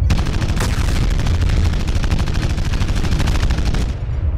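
Light PPC energy weapon fire in a MechWarrior-style mech combat game, a dense, loud barrage of rapid repeated shots and blasts running continuously before cutting off near the end.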